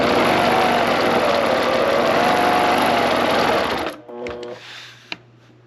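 A sewing machine stitches a scalloped quilting line guided by a ruler. It runs close and steady at an even whirring pace for about four seconds, then stops, leaving a quiet room with a faint hum and one small click.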